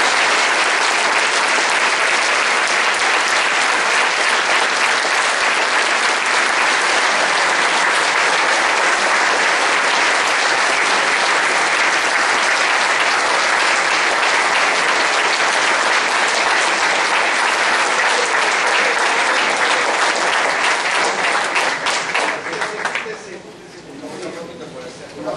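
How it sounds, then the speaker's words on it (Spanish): Strong, sustained audience applause welcoming the families of 52 victims at a public political event in Argentina, a dense, loud wall of clapping lasting over twenty seconds before tapering into quieter murmur. "nada mejor que recibir con un fuerte aplauso a los familiares de las 52 víctimas"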